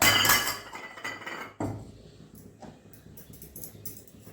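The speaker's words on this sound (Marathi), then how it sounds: "आणि कुकरचं झाकण लावून टाकायचं" Metal clinks and clatters as a pressure cooker lid is fitted on, a sharp knock in the middle followed by lighter scraping taps.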